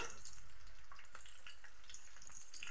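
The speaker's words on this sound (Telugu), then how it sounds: "ఇవి కొంచెం అట్లా లైట్గా వేగాలి." Garlic and whole spices such as cinnamon frying lightly in a pan for vegetable biryani, giving a steady, moderately loud sizzle with faint scraping. No one speaks.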